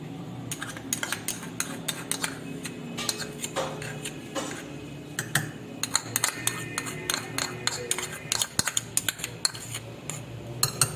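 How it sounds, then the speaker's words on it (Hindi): A spoon stirs cream (malai) into sweetened yogurt for dahi bhalla, giving close, steady clinks and scrapes against the bowl that grow busier and sharper toward the end, with no talk. "मलाई डालकर भी मैंने मिक्स कर लिया है।"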